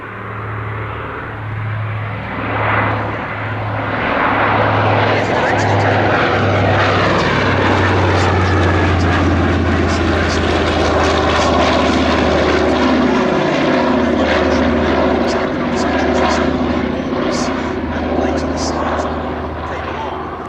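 Propeller engines of a Catalina flying boat drone loudly and steadily, a throbbing low hum with a pulsing beat at first, and faint voices under the noise.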